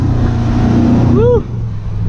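Engine of a Chevrolet Silverado SS truck with muffler, revving at about quarter throttle, a loud steady rumble close by that rises briefly and then drops off abruptly.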